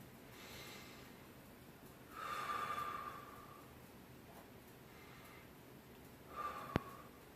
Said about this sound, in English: Let's start with a couple breaths today.